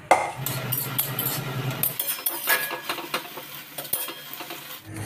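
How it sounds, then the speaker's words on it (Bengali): Leafy greens fry in a pan with chili, nigella seeds and garlic, a soft steady sizzle under scraping stirs and light clinks of a utensil against the pan, close and moderately quiet. "লঙ্কা, কালো জিরে আর রসুন ভালো করে কষিয়ে ফোড়ন দিয়ে শাকটা ভাজবো।"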